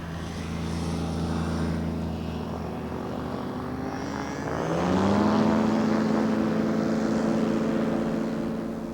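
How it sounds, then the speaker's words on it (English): A propeller-driven light airplane circling an airfield during a 1985 coast-to-coast air rally, a steady droning engine that rises in pitch and grows louder midway as it passes close by. "Bomber Wells has a quick once round the airfield while the rest of them take off"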